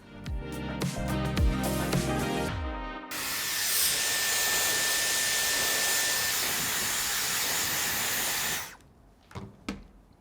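A Dyson Airwrap rough-dries hair, giving a loud, steady airy whoosh for several seconds between short bursts of clattering handling noise, heard up close with no talk.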